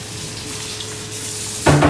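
Sabudana vada frying in hot oil: a steady soft sizzle with a faint hum, then a brief louder clatter at the end.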